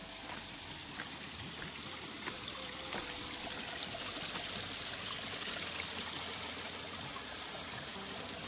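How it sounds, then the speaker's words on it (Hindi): A waterfall pours from high up into a stream on a climbing trail along the Narmada, making a steady, even rush of water that continues unbroken throughout, with no voices. "यहाँ पर एक झरना आता है"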